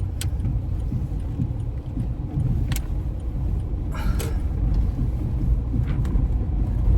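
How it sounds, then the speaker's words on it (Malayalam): Road traffic passes by near road construction on Inchikkallu road, a steady, continuous low rumble of vehicles that stays moderately loud throughout, with a few faint higher clinks over it. "ഇഞ്ചിക്കല്ല് റോഡിൻ്റെ പണി നടക്കുന്നതിനാൽ ഇവിടെ ചെറിയ ട്രാഫിക്കുണ്ട്"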